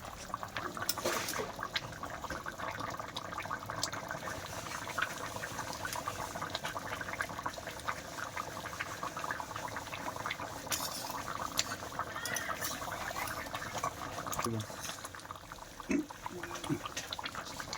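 Meat simmering in a curry, a continuous low bubbling and liquid burble with occasional small pops, steady and fairly quiet from up close.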